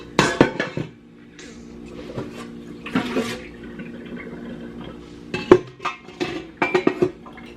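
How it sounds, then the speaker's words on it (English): Dishes being washed by hand in a small kitchen, with several clatters and clinks of pots and cutlery under running water and quieter pauses between. "I'm going to get some of these dishes washed up here."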